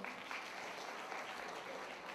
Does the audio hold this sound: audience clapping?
yes